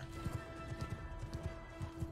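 A horse gallops in the Mount and Blade 2 Bannerlord video game, with quick, evenly paced hoofbeats in clustered pairs that sound fairly close but quiet over a low background hum.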